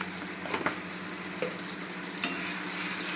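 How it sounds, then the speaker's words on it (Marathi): Salt being stirred into a potato and cabbage sabzi with tomato, a spoon scraping the pan in a few distinct strokes over a steady low sizzle, close and moderately loud with no talking. "चांगलं मिक्स करूया"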